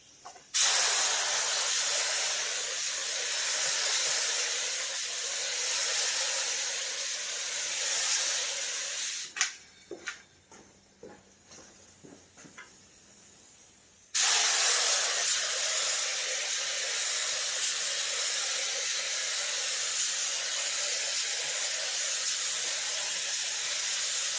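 A spray gun lays water-based paint across a Plymouth Valiant hood in long steady hissing passes, close and loud, pausing for a few seconds of light handling noises before spraying resumes.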